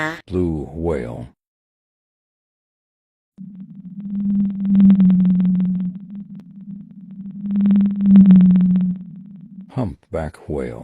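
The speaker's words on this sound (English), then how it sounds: "Blue whale." A blue whale calls underwater with one long, low, droning moan. It swells twice in loudness and holds steady for about six seconds, with brief bits of talk before and after it.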